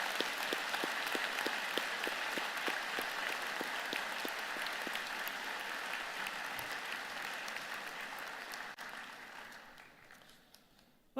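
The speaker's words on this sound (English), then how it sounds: "join me and the platform party in thanking them with a vigorous round of applause" A university convocation audience gives a long, vigorous round of applause, a broad steady roar of many hands that holds strong for most of its length before thinning and fading toward the end.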